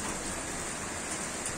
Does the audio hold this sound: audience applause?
no